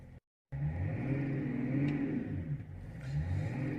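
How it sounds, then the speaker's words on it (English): A car engine catches after a brief silent gap and settles into a rumbling run with mild revving swells, steady and fairly close, heard alone. "The engine sounds nice and sweet."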